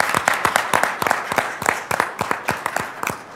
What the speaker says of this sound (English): just a quick round of applause for Debbie